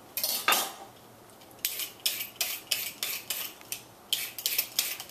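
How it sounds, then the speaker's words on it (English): A peeler scrapes down a carrot to shave it into ribbons, about a dozen quick, crisp strokes in a steady rhythm with short pauses, close and fairly loud, with no voices. "instead of how you would peel a carrot to get rid of the outer skin, just keep doing it"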